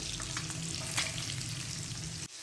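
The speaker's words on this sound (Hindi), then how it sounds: "अब हम इनको तकरीबन 2 से 3 मिनट के लिए फ्राई कर लेंगे।" Boiled eggs sizzle and crackle steadily in a hot pan, close and loud, with a brief clink partway through before the sound drops off at the end.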